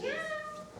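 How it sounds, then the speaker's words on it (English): A ship's cat in a stage play gives one drawn-out, rising meow, close and clear, that fades near the end. "Look, Daddy, the cat. The ship's cat."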